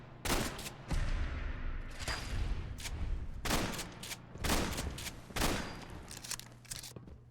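Firearms crack in repeated short bursts and single shots during a fight in the video game Fallout 4, modded survival mode, heard fairly quietly with brief gaps between volleys.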